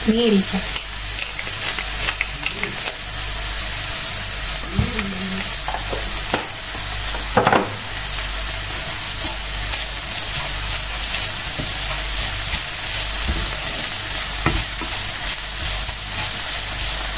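Steady sizzling of Black Angus beef steak seasoned with pepper frying in a hot pan, with occasional stirring and scraping sounds over the constant hiss.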